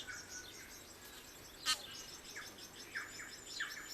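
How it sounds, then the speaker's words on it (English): A New Zealand bellbird calls outdoors with a string of clear, chiming chirps and whistles, moderately distant, with one sharper note near the middle and repeated short phrases toward the end over faint background hiss. "The call of the bellbird is still a feature of New Zealand"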